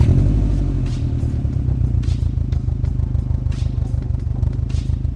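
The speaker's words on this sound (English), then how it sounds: "There's just something iconic about that Subaru rumble." A Subaru STI boxer engine idles close by, a deep, lumpy rumble with uneven throbbing pulse, loud and continuous, with faint rattling over it and no speech.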